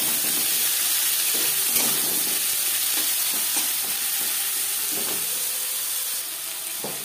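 Chopped onion frying in hot oil with panch phoron, the Bengali five-spice mix: a steady loud sizzle and hiss throughout, with occasional soft stirring scrapes underneath.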